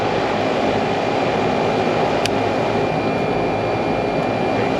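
A Carrier air conditioning unit running, compressor and fan motors producing a loud, steady mechanical drone with a constant hum and no break.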